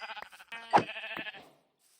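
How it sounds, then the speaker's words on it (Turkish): Sheep in the video game Minecraft bleat three times in quick succession, clear and close, with the last call fading into silence. "Şuradaki koyunları kesebiliriz."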